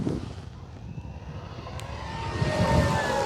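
An E-flite Carbon-Z T-28 RC plane with full landing flaps makes a clean pass, its steady motor drone building from moderate to louder as it nears, with wind rumble throughout.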